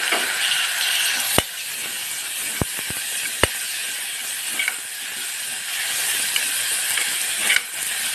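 Chopped tomatoes fry loudly in a pan after green chillies, a constant close sizzle and steam hiss broken by several sharp clicks and scrapes of a spoon stirring against the metal.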